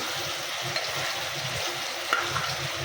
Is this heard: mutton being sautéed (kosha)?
yes